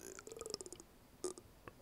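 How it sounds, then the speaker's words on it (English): A suppressed human burp: a short, soft throaty eructation with a small second push, faint and close, heard alone without speech. "Oh, that was close to a burp."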